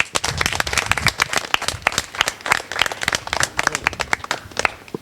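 Schoolchildren at a Montessori school clap their hands together, a dense, continuous burst of uneven claps from a group close by.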